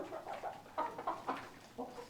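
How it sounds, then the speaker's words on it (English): Several chickens cluck softly and repeatedly nearby in a bank barn in short, irregular bursts, with no talking. "Come on, chickens. Get here, girls."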